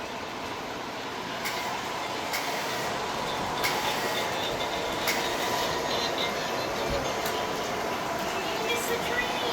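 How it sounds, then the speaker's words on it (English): Model train running on an interactive miniature railroad display at a railroad museum, a continuous rolling rumble with faint clicking under a noisy room of visitors talking. "It's the train."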